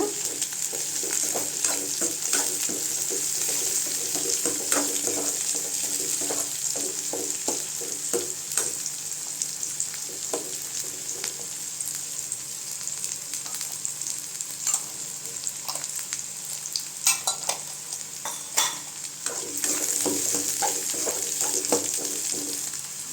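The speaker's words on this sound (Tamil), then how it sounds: "புளியும் அது கூடவே சேர்த்துக்கலாங்க. எல்லாம் நல்லா வதங்கட்டுங்க." Mint chutney ingredients with tamarind sautéing in a pan, a continuous close sizzle broken by frequent scraping stirs and light clicks of a spoon, steady throughout.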